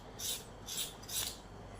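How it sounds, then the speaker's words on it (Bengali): A knife scrapes the skin off a pointed gourd in three quick, dry rasping strokes, close and fairly soft, with short pauses between them. "কত সুন্দর ছুরি দিয়ে ঘষতে আঁশগুলো চলে যাচ্ছে।"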